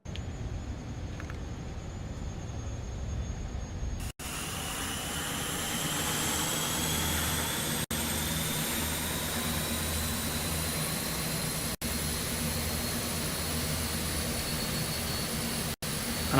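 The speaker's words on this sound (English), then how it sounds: "I'm going to start engine number 2 now." Number 2 turboprop engine spools up in Microsoft Flight Simulator 2024, a loud steady turbine whine climbing in pitch over a low rumble, continuous for the whole stretch with brief dropouts and no talk.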